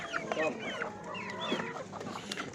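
Indian-breed chickens, chicks and roosters at the Gördes poultry market cluck and squawk in repeated overlapping calls, close by, with people talking nearby.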